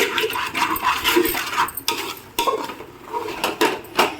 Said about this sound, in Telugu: చింతపండు రసం పోసుకుంటున్నాం